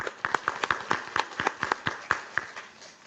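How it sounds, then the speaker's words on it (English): Scattered clapping from a small group, with a handful of sharp, uneven claps close by over a few seconds. "I want a round of applause for y'all for coming here today."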